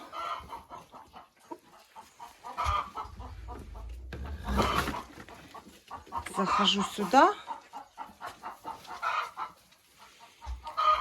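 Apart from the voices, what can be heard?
crested chickens clucking in their enclosure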